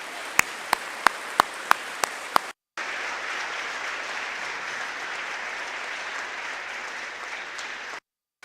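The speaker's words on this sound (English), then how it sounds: "Let's give our veterans one more round of applause." A round of audience applause for veterans at a Veterans Day program, opening with a few sharp individual claps before a steady wash of many hands clapping that holds evenly, then cuts off.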